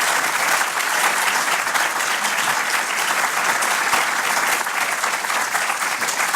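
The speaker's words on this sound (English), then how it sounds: "Can we have a big round of applause for all of our speakers tonight?" Applause from an audience at a debate on whether gold is money and the future of the international monetary system, a broad continuous clatter of many hands, fairly loud and unbroken from start to finish.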